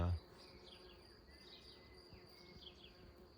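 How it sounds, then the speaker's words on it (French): Bees buzz continuously around nearby flowers, a soft droning hum with wingbeats drifting in and out, after a brief thump at the start. "les abeilles sont en train de bourdonner dessus"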